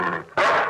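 A dog barks loudly in an old Shōwa-era Japanese TV commercial for a Great Mazinger toy, one short bark after a brief pause, with no talk during it.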